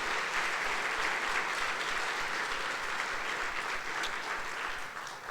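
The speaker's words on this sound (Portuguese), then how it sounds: "dê um aplauso a Jesus." A church congregation applauds during a Sunday service: sustained, dense clapping from many hands filling the room at steady loudness for several seconds, with no speech over it.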